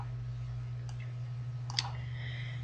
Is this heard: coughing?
no